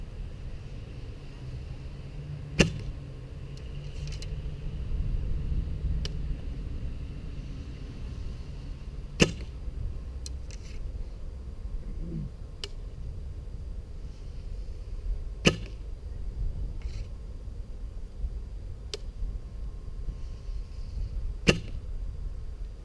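Four quiet arrow releases from a 2015 Martin Jaguar Elite traditional recurve bow land several seconds apart, each a brief sharp thwack over a low steady background rumble.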